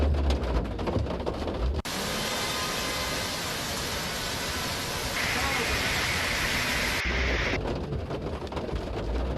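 Heavy monsoon rain pours in a dense, loud hiss during flooding in Mumbai, with a sharp break partway through and a brief louder burst near the end.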